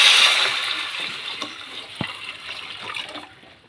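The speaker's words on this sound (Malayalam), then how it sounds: "അല്പം വെള്ളം ഒഴിച്ചെടുക്കും." Water poured into a cooking pot holding vermicelli and sago, a brief gushing splash at the start that fades into quieter trickling and small drips, close by with no talk.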